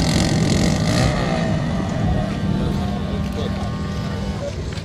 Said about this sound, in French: même le quad là-bas, il burn